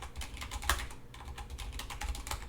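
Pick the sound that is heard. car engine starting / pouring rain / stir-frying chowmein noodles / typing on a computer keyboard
typing on a computer keyboard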